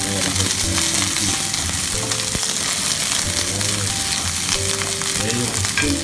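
Chili peppers sizzle and fry in a hot pan for adobo, a steady close crackle with occasional stirring scrapes throughout.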